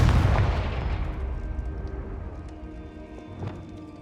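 Blasting spell cast in a wizarding video game, a sharp explosive boom up front that rumbles and fades over a few seconds, followed by a quieter thud.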